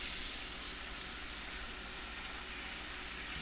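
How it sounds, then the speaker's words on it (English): A center cut pork chop sizzles in a pan in a dense, even hiss of hot fat that stays constant throughout, moderately quiet and without talking. "I'm gonna put the pork chop in here"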